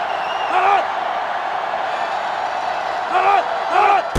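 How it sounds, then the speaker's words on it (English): Sellout stadium crowd roaring steadily in a college football video game, a loud continuous wash of cheering with swells of shouting and whoops rising near the start and again toward the end. "This sellout crowd is really making a difference now as these guys can't even call the play."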